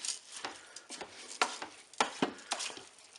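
Rice being stirred for a light paella inside a Cookeo multicooker: a series of soft scraping, rustling strokes spaced roughly half a second apart, close and fairly quiet, with no talking.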